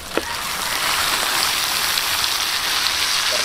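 Meat sautés in a pan for Filipino pork asado with tomato paste, giving a steady, even sizzle like hard rain. It stays constant and fairly close throughout, with a single faint clink near the start.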